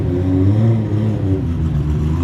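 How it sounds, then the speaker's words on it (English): A Lamborghini pulls up at a busy car meet in LA, its engine rumbling and revving in a steady, loud mid-pitched drone with slight rises, close by and with no talk over it. "there's a crazy Lamborghini pulling up as we speak"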